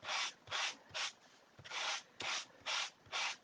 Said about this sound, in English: we're just going to sand that to get that white